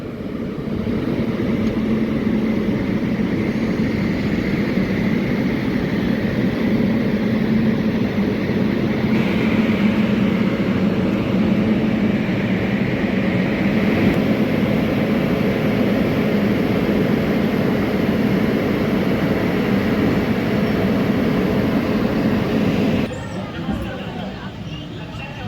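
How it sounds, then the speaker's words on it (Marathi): Inside the 11045 Dikshabhoomi Express, a passenger train hauled by a Pune-shed WAP7 electric locomotive, a steady low rumble and rolling hum continue throughout, loud and unbroken, with a faint murmur of background voices. "पुणे शेडचं WAP7 लोकोमोटिव्ह आज आपल्या ट्रेनला लीड करत आहे"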